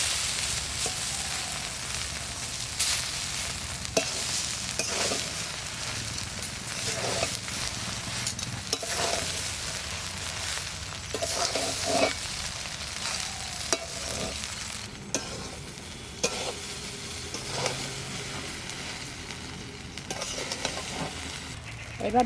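Spice paste fries in a pan for khichuri while a utensil stirs it, giving a steady low sizzle broken by repeated scraping clicks throughout.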